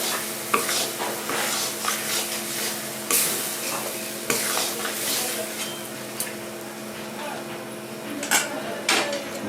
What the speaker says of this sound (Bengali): আমার টমেটোটা ভাজা হয়ে গেছে